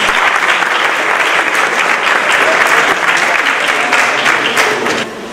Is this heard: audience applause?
yes